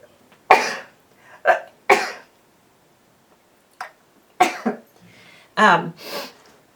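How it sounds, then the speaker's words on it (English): A few sharp, explosive bursts, a sneeze with coughs and throat-clearing around it, close up and separated by pauses. "I'm going to sneeze."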